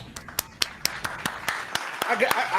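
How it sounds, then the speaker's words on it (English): Canned applause sound effect triggered from a button during a live stream, about ten sharp, separate claps in a loose rhythm, with a voice talking over the end. "where's my applause button?"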